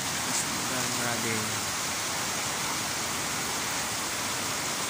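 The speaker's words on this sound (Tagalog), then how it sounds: "Lakas ng ulan. Grabe." Heavy rain pours down in a dense, steady roar that fills the whole clip, loud and unbroken, with faint tonal hints early on beneath the downpour.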